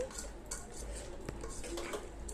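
A utensil scrapes and clinks against a metal pan in steady stirring strokes, stirring chicken masala, close by, with a faint sizzle underneath and no voices.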